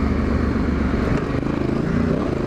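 Suzuki DRZ dirt bike riding a sandy trail, its engine a close, loud, continuous rumbling drone with slight throttle variation over a couple of seconds.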